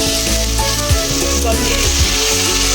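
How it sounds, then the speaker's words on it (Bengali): Spiced potatoes sautéed in a pan for a vegetarian Bengali curry give way to water being poured in, a steady close sizzle with a few sharp bursts and bubbling as the liquid hits the hot masala; no speech. "কষানো আমার হয়ে গেছে, এবার আমি জল দিচ্ছি এর মধ্যে।"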